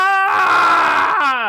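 A voice imitates a manga character's anguished scream, from Kaiju No. 8, as he stares at his bloodied hand: one loud, sustained, strained cry lasting about a second, close and alone.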